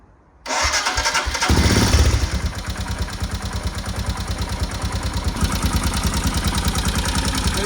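A Royal Enfield Himalayan motorcycle engine cranks and fires up, then settles into a loud, steady, rattly single-cylinder idle with a rapid pulsing thump, close by.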